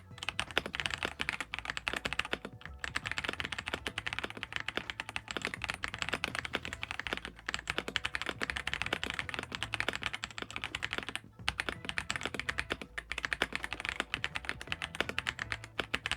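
Typing on an Ajazz AK820 mechanical keyboard set on a desk: dense, rapid keystrokes in steady bursts with brief pauses, close and clear with no talking.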